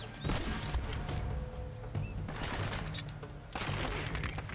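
Gunfire in the video game Uncharted: Drake's Fortune comes as rapid bursts of shots in clusters, loud and close, with gaps between volleys and no talking.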